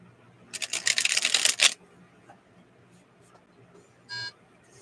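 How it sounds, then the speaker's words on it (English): A short electronic beep sounds once, steady and brief, after a burst of rapid clicking and rattling, in an otherwise quiet room. "That beep you hear, just ignore it."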